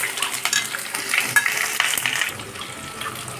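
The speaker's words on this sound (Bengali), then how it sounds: "পেঁয়াজটাকে মিনিট 2 ভালোভাবে ভেজে নিতে হবে।" Chopped onion hitting hot oil seasoned with cardamom, cinnamon and whole spices, with crackling sizzle and the clatter of a spatula stirring in the pan, close and continuous before quieting near the end, no voices.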